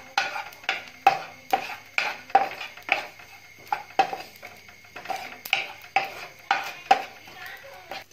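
Whole cumin seeds dry roasted in a pan for homemade chaat masala, heard as a steady series of metallic clinks and scrapes from stirring against the pan, fairly close, with no talk.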